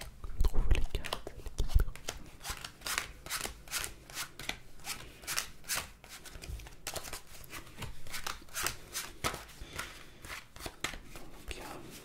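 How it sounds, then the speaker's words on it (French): A deck of playing cards is handled and shuffled right next to an ASMR microphone, giving crisp, intimate bursts of riffling, flicking and sliding at an irregular pace. "pourquoi justement je sors ce paquet de cartes?"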